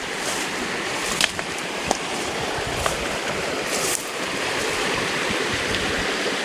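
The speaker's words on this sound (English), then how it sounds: "There's a creek." Steady broadband rush of flowing water, like a creek running over rocks in California, continuous and fairly close, with a few faint clicks and no voices.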